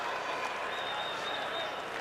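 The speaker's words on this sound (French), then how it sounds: "Et la foule qui a réagi tout de suite" A boxing crowd at a Brian Magee versus Lucian Bute bout breaks into steady, dense applause and cheering right after a knockdown, a continuous wash of clapping heard at moderate distance.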